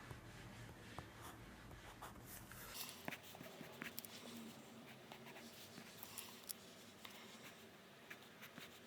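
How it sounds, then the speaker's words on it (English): A comic drawn by hand with pen on paper, faint continuous scratching and small strokes, very quiet and close with a little room noise. "I am drawing this live to kind of prove my point of drawing faster"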